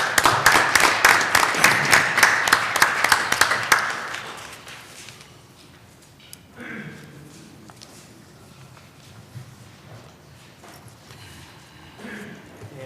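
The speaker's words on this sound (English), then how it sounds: "Please give them a round of applause." Audience at a Flint city council meeting clapping for an honoree: a few seconds of fairly rhythmic, moderately loud applause that quickly fades into quiet room noise, with faint murmuring afterward.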